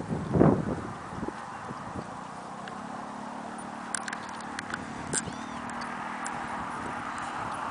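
A horse cantering along a trail, its hoof clip-clop faint and fairly steady, with a louder burst of rider noise at the start and a few soft knocks later, set against quiet outdoor ambience.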